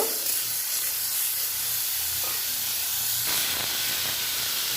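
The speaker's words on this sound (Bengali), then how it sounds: "ওই তেলে আমি আলু একটা কেটে রেখেছি, ফ্রাই করে নেব।" Cut potatoes and ridge gourd fry in oil with salt and turmeric, giving a loud, continuous hissing sizzle with faint scraping stirs, no voices.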